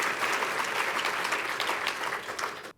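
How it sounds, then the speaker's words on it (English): Dense, steady audience applause fills the room without a break, a broad even wash of many hands clapping that eases off at the very end. "Yes, that deserves applause."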